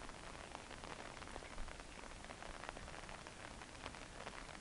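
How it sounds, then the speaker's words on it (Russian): Steady, soft rain patters evenly on a surface in Königsbrück, Germany, near the Hauptkirche, a dense hiss with scattered droplet taps and no voices. "Сегодня идет дождь."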